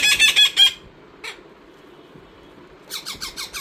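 Young parrot chicks chirp and squawk in shrill, rapid bursts, first a busy cluster, then one brief call, then another lively flurry after a quiet gap.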